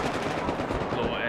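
Rapid automatic hip-fire gunshots in Battlefield 4 multiplayer, a fast, dense rattling burst filling the short moment, loud and close.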